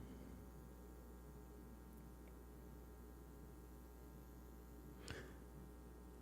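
A desk lamp buzzes and a refrigerator hums in a quiet room, blending into a steady, faint electrical drone with one brief tick near the end.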